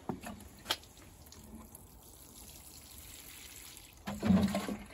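Faint quiet rustles, then water is poured onto newly planted lettuce seedlings and splashes near the end, soft and close.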